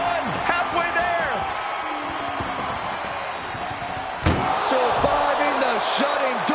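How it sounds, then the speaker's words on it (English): In a WWE wrestling game's ambulance match, a heavy ambulance door slams shut with one sharp, loud bang partway through, while commentators talk and a crowd roars throughout. "Surviving the shutting door and escaping the ambulance"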